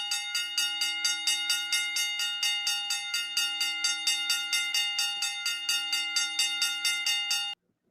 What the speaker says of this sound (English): We're going to ring the bell one time for you.